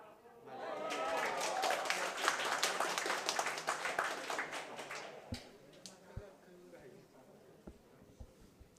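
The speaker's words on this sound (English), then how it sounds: "Smattering of applause as she rubbed her front one in to make sure it is definitely 1 green." Smattering of applause at an indoor bowls match, a few seconds of scattered hand clapping that swells then thins out to isolated claps.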